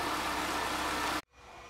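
Peugeot 207 engine idling after an overhaul, a smooth, steady mid-pitched hum that runs evenly for over a second before cutting off abruptly and fading back faintly.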